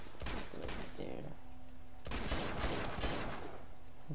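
Gunfire in the video game Uncharted 2, with bursts of shots and rattling automatic fire over game ambience and voices.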